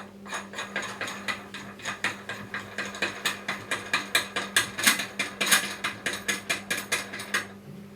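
Ratcheting clicks as a locking nut is spun down on an aluminium Micro scooter headset, a steady series of sharp, close metallic ticks repeating evenly for several seconds.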